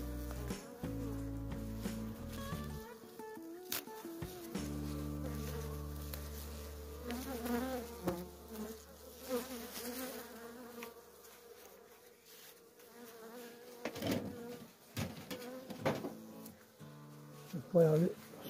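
Honeybees buzz at a hive opened during a cold winter inspection, a steady insect drone with louder passes near the microphone and occasional handling noises.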